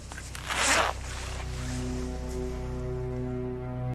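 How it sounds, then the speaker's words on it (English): A single quick zipper pull in a movie scene, a bright rasping burst up close followed by a low, steady musical hum lingering underneath until the cut. "we hear a zipper sound"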